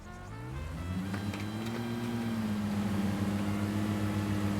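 A rising engine drone builds as a train in Train Sim World 5 picks up speed, a continuous rumbling hum with climbing tones, loud and steady with no talking.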